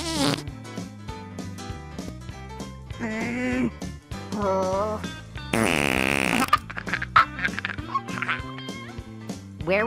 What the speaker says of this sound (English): Let's have some farty fun.